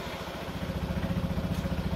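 A Yamaha Nmax scooter engine, started by a remote starter, idles with a low, even chugging pulse close by, its rhythm steadying toward the end.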